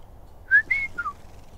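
A person whistles a short three-note imitation of a quail call, rising then falling, clear and alone against quiet background.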